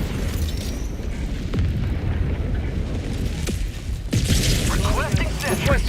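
Mines detonating in the Helldivers 2 video game, a cluster of loud booming blasts and pops layered over continuous battle noise, with a sharp burst near the end.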